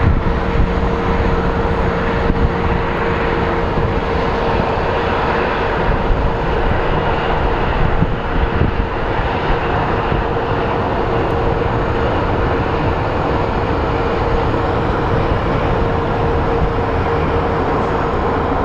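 An airplane at Phoenix Sky Harbor International Airport roars loudly and continuously, a broad steady engine rumble and whine that fills the whole stretch.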